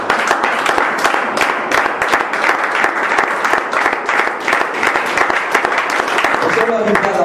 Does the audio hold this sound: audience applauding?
yes